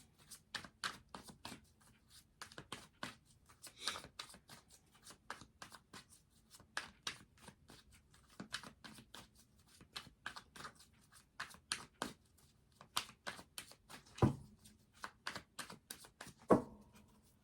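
Tarot cards shuffled and riffled by hand in a long run of quick, crisp flicks and soft slaps, steady and close, with a couple of sharper snaps near the end and no talking.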